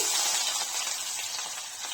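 Mustard seeds, chana dal and finely chopped onion sizzle in hot oil in a pan, a steady bright crackling hiss that holds close and fairly loud throughout, with no voices.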